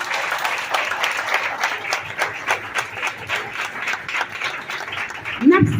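Applause from an audience at a Haitian Creole gathering, a steady dense patter of clapping sustained throughout, fairly close and loud, ending in a brief louder burst.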